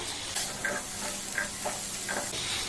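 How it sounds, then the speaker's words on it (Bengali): Boiled potatoes being stir-fried with spices in a pan for aloo chaat, heard close as a continuous soft sizzle with repeated scraping strokes of a spatula, no one talking. "আলুটা দেওয়ার পর সমস্ত উপকরণ আবারও খুব ভালোভাবে কষে নিতে হবে"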